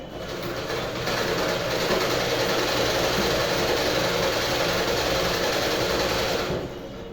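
A freshly oiled sewing machine runs at higher speed, a steady fast whirring drone that rises after a second and holds evenly before easing off near the end.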